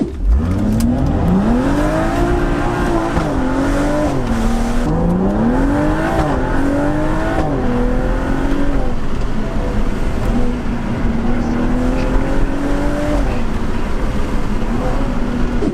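A BMW M135i engine revs and accelerates through repeated gear changes, rising and falling in pitch, with steady road noise throughout.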